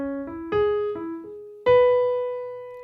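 A piano plays a short arpeggio with a gently shaped contour, a few clear notes stepping upward and ringing out alone, the last one sustained.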